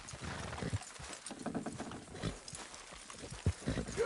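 Horse hooves clop steadily in a Red Dead Redemption 2 scene as horses pull a structure down, a close, rhythmic clatter running throughout with occasional louder thuds.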